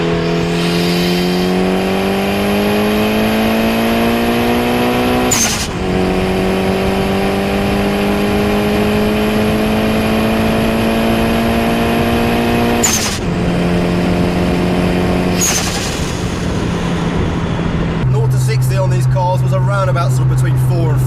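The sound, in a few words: Mitsubishi Evo 6 Tommi Makinen accelerating on motorway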